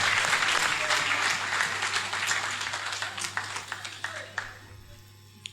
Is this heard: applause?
yes